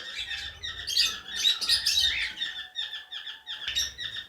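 A breeder pair of cockatiels chirps close by, with bright, repeated whistling calls in quick bursts and short pauses between them, and no one speaking.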